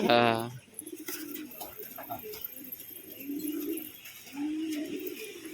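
Pigeons cooing nearby, a few soft low throaty coos after a brief loud burst at the start, with someone talking over them.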